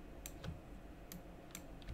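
Computer keyboard keys are pressed in a few quiet, sharp clicks spaced irregularly, faint against a soft steady room hiss.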